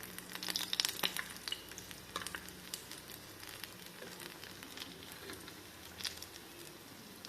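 Nendran banana fritters (pazham pori) fry in hot oil with a soft, steady sizzle and scattered crackling pops, fairly quiet with occasional louder bursts.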